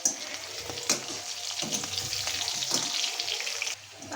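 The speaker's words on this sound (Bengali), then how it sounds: "আমি এই আস্তে আলুটা ভাজবো" Potatoes frying in a pan with salt and a little turmeric, a continuous close sizzle of hot oil with a few sharp stirring taps, cutting quieter near the end.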